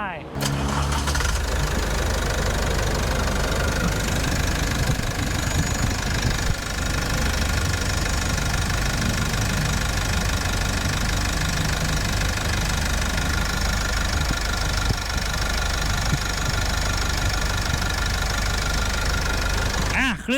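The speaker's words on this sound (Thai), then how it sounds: "ฟังเสียงเครื่องกันไป" A 1.9-litre diesel engine of a 2020 Isuzu D-Max pickup idling steadily up close, with a rough knocking rumble that holds constant throughout.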